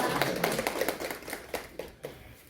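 A small audience at a poetry reading claps for a poet, a brief, modest burst of applause that thins into a few scattered claps as it fades.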